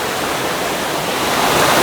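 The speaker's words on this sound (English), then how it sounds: "It's been raining quite a bit up here, so there's a lot of flowing water" Rain-swollen water rushes steadily near a beach, a loud, close, continuous hiss with no break.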